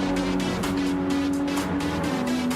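A race car engine at full throttle on the Kyoto Driving Park circuit in a racing video game roars with a sustained high-revving whine, and tires squeal over it briefly.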